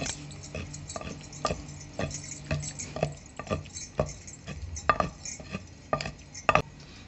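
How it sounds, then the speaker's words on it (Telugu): Boiled tomato being ground in a stone mortar, heard as a steady series of close knocks and soft scrapes at an uneven rhythm, moderately quiet with no talking. "తర్వాత మెత్తంగా ఉడకబెట్టుకున్న టమోటా రోట్లో పోసి బాగా రుబ్బుకోవాలి"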